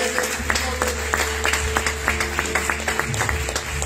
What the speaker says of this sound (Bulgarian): няма как да не го посрещнем с аплодисменти